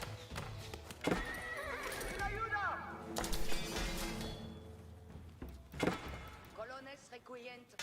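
Horses in a strategy video game, several loud neighs and whinnies with clip-clop hoofbeats and clattering game effects, mixed closely with someone talking throughout.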